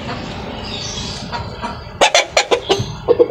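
Rooster clucking, a quick run of sharp, loud clucks in a short burst after a stretch of low background noise, then two more at the end, on a goat farm.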